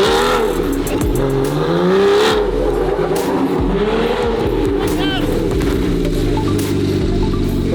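A 1300-horsepower 720 GTR with a Gintani-built engine revs and accelerates hard, its loud, close exhaust note rising and falling in sweeping pitch, while people talk over it.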